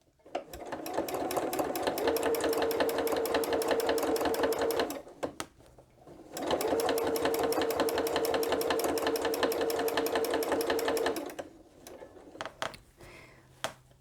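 A sewing machine stitches in the ditch on a bookshelf quilt, running in two long, steady bursts of rapid, even stitching separated by a brief pause, then finishing with a few short stop-start spurts.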